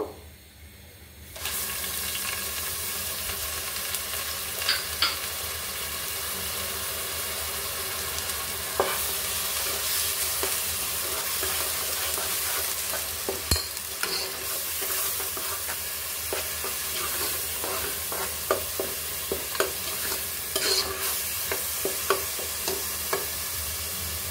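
Cardamom and onion paste fry in hot oil: a sudden loud sizzle starts after a brief quiet moment and continues steadily, dotted with occasional clinks and scrapes of stirring, close up with no voices.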